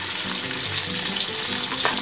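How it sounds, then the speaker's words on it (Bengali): Potato pieces fry in a pan for bata macher jhol, a continuous close sizzle with a few soft stirring knocks over about two seconds and no talking. "আলুটাকে খুব ভালো করে ভেজে নেব।"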